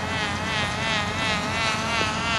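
A radio-controlled model helicopter flying outdoors gives a steady, loud buzzing whine with a rippling rotor beat that holds unchanged throughout.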